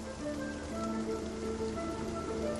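Steady rain during a rain-catching event in the video game Spiritfarer, a continuous dense patter with soft tonal game music beneath it.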